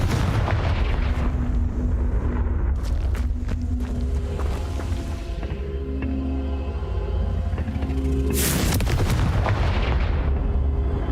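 Confringo blasting spell cast in the video game Hogwarts Legacy, heavy booming blasts and rumble with a sharp burst of crackle near the end, loud and dense throughout.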